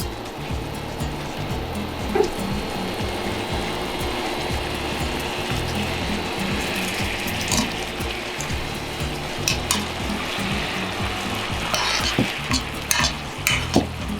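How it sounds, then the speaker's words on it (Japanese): Sauce of Worcestershire, ketchup and red wine boils and reduces in a frying pan, a steady dense bubbling sizzle with occasional sharper pops and ticks, close and continuous throughout. "沸騰させて煮詰めていきます。"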